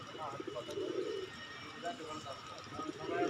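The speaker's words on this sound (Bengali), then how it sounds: "ওই তো সিরাজি কবুতর সম্ভবত।" A Sirazi pigeon, a desi breed kept at a house, gives a few low, soft coos. Nearby people talk over the cooing, which is faint.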